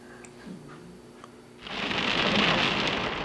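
Heavy rain and a thunderstorm: quiet rumbling and scattered drips give way midway to a loud, dense, steady roar of downpour, close and alone with no voices.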